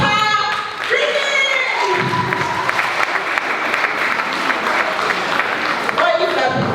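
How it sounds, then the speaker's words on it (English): Audience applause at a summit finals in a hotel hall, steady dense clapping filling the room, with voices and some cheering mixed in throughout. "A round of applause for Riri."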